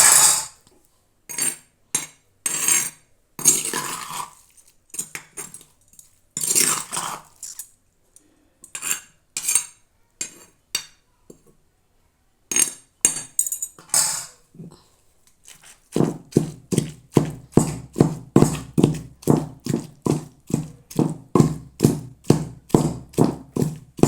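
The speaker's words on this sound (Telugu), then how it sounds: "చూడండి ఒక చేయితోటే దంచుతున్నాను నేను" Brinjal karam pounded by hand in a mortar, with one hand working the pestle: sparse, irregular knocks at first, then a steady, fast run of sharp, evenly spaced thuds close by, with no talk.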